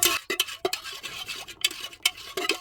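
Melted soy wax is stirred in a container, giving close, repeated scraping and clinking strokes in an uneven rhythm, loud and with no voices.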